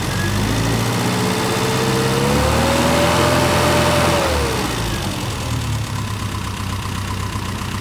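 A classic Mini's carburetted engine is run up during carb tuning, rising to a steady raised rev before easing back toward idle, loud and close with no talking.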